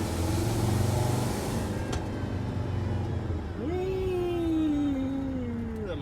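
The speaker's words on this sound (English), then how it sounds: "It's got a turbo leak. You hear that gas? Yeah. And the way it surges." Freightliner 3500 truck diesel engine with a turbo leak, running with a hissy rush of escaping air, then surging and dropping back with a falling whine; loud and close, no talking over it.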